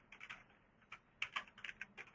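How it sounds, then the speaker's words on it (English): Fingers type on a computer keyboard at close range, quick irregular bursts of light key clicks with short pauses between runs. "if I could type here"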